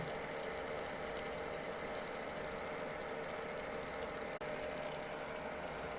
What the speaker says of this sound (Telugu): ఫ్రెండ్స్, ఇలా చికెన్ ఉడుకుతుంది.